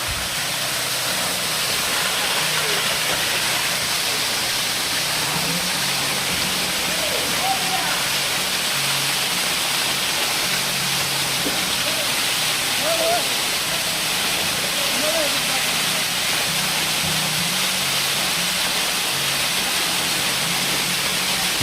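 A forceful hidden forest waterfall at Alasandhrapuram near Natrampalli pours in a steady, dense roar of rushing water, constant and close, with faint voices barely audible beneath.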